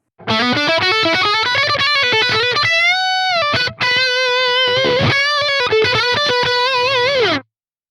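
Distorted electric guitar lead through Archetype: Nolly X with bass cut, a thin, trebly tone, playing bending, sustained notes with a brief gap midway, loud and alone.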